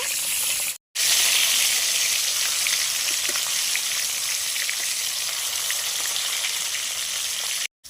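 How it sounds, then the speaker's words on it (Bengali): Bhangor fish pieces frying in a pan, a loud, dense, continuous hiss of hot oil close up, briefly cutting out near the start and again at the end. "মাছটা একটু ভাজা হয়ে গেছে উল্টে নেব"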